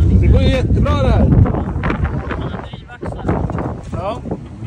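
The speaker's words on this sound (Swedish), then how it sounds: "Det blåser för mycket." Strong wind blows against a microphone outdoors, making a heavy, low, rumbling buffet throughout, with people talking over it.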